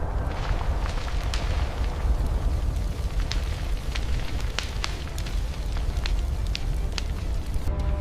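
Wildfire sweeping across open savannah, a steady broadband roar with scattered sharp crackles and pops throughout, loud and continuous with no voices.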